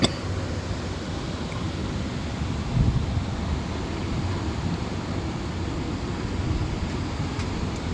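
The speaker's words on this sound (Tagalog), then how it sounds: "Rinig nyo naman ang hangin." Strong typhoon wind gusts steadily by the sea in Hong Kong, a constant low broadband rush with a faint surf-like wash, heard alone and fairly quiet throughout.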